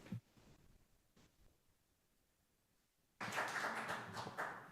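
Applause breaks out at a city council meeting after a near-silent stretch with a few faint taps; the clapping starts abruptly and stays dense and fairly loud until the end.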